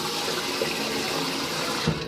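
Tap water runs steadily during a shaving cream lathering session with Duke Cannon Superior Grade cream, a continuous close, even rush with no talking over it.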